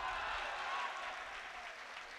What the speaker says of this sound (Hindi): यहां से वहां तक आपकी तालियां बजे।